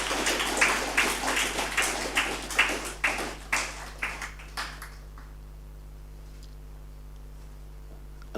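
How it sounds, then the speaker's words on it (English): Applause from a convention audience, a burst of steady clapping that swells over the first few seconds and then thins out into scattered claps before fading to quiet. "And a round of applause, please."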